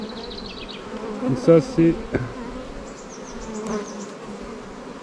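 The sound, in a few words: honeybees and drones buzzing on an open hive frame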